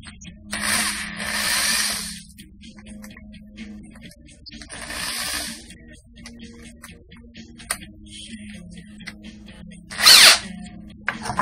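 A power drill drives screws into PVC that will attach to 2x8 boards for a swing set solar tracker, heard as three separate whirring bursts, the last one short and loud.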